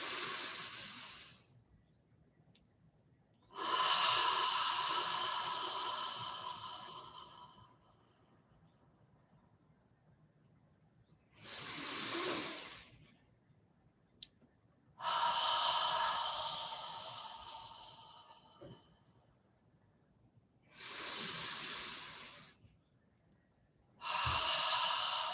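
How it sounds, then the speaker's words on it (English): Slow, deep breaths during a guided breath meditation: long airy exhales and inhales of several seconds each, close and fairly loud, separated by near-silent pauses, with no talking. "Conscious of breathing out."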